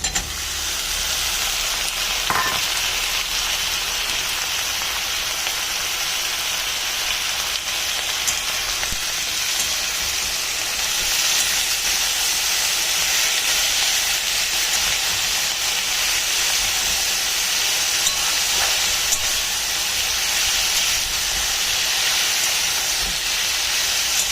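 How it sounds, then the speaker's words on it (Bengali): Potato and eggplant frying with onions in hot oil, a loud, constant hissing sizzle that carries on unbroken throughout. "পেঁয়াজটা সামান্য নেড়ে ছেড়ে আমি এর মধ্যে আলু আর বেগুনটা দিয়ে দেবো।"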